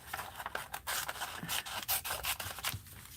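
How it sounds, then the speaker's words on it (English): Scissors snip through stiff baseball cards in a series of close, dry cutting and rubbing strokes, an irregular crisp rasp with no voice over it. "Chicago Bears, baseball cards. Let's cut these up."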